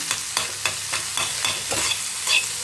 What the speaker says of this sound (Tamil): அந்த வேர்க்கடலை பூண்டோட டேஸ்ட்டு அந்த பீன்ஸில் பிடிக்கணும் இல்லையா, கொஞ்சம் கிளறி விட்டுப்போம்.